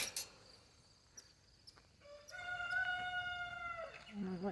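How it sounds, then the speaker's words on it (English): A rooster crows once in a long, sustained call a short distance away on a homestead on a chilly, sunny morning, with faint insects and scattered small noises around it. "That darn rooster."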